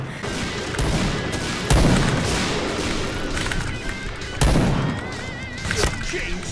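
Heavy XM2010 sniper rifle shots in the online shooter Point Blank, two or three loud booming reports spaced a few seconds apart amid dense in-game battle noise.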